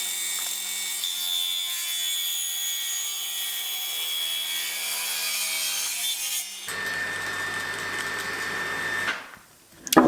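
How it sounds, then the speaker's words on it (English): Hand saw cutting an oak tenon for a casement window, a steady close rasping stroke that runs alone for about nine seconds before stopping. "we can again reference from the face and do that next cut and check the tenon."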